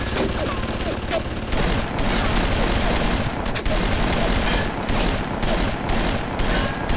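Turret gunfire in the BioShock video game, a dense continuous fusillade of rapid shots and booms filling the whole stretch at steady loudness.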